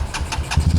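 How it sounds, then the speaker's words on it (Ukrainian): A Rusi motorcycle, a Philippine-built machine made under Chinese license and two years old, idles close by with a steady low rumble and a few soft periodic bursts. "А це мотоцикл, на якому ми пересуваємося."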